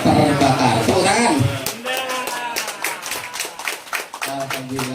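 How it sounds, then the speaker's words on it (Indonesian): Audience clapping at a waste-to-gas fuel processing demonstration, scattered claps breaking out after a voice, uneven and moderately loud over several seconds. "Tepuk tangan."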